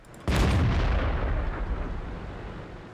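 A single tank gun shot from World of Tanks booms loud and close, a sharp crack that rolls into a long rumbling decay lasting a few seconds, with no voice over it.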